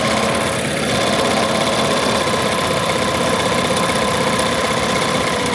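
A ZSK embroidery machine runs at 1200 RPM on an expo floor, giving a loud, steady mechanical drone with a fast, even vibrating rattle that never changes for the whole stretch.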